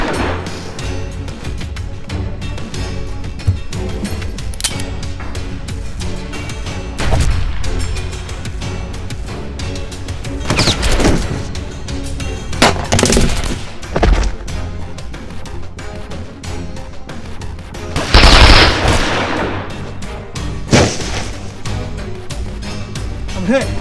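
Video game gunfire and artillery-like booms, loud bursts and repeated shots scattered irregularly over a steady background, with voices talking throughout.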